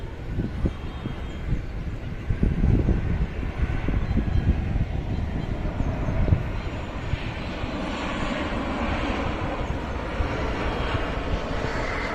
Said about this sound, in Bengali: বোয়িং সেভেন থ্রি সেভেন মডেলের একটি কার্গো বিমান জেডি এয়ারলাইন্সের এই বিমানটি চীনের ন্যানিং থেকে ঢাকায় অবতরণের জন্য এগিয়ে আসছে